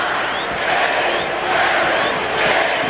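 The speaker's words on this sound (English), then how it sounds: "The crowd trying to bother Karl Malone by giving him its own 10-second count" Arena crowd at a 1998-99 Jazz vs Kings NBA playoff basketball game chanting a ten-second count at Karl Malone, a dense, steady roar of many voices filling the hall without pause.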